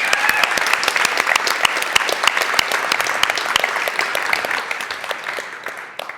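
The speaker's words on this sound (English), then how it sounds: "Round of applause to the organizers" A conference audience applauds its organizers, dense sustained clapping from a sizable crowd that holds steady for several seconds before tapering off at the end.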